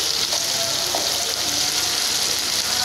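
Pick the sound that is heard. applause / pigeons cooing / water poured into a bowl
water poured into a bowl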